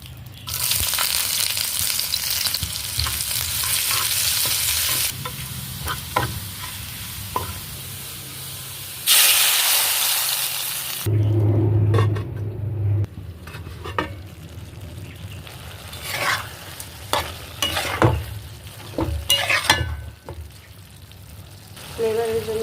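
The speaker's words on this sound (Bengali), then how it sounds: "এবার একটু বাগার দিয়ে নেব, বাগার দিয়ে বাকি প্রসেসগুলো করে নেব।" Whole spices sizzling in hot oil for a tempering, added to a curry of boiled jackfruit seeds and vegetable stems, with a loud steady hiss, a sharp burst midway, then stirring clatter and intermittent scraping.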